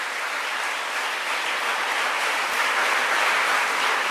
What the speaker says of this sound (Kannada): ಚಪ್ಪಾಳೆ ಬಲ್ಲಿ ತುಳಸಿ ಗೌಡ ಅವರಿಗೆ.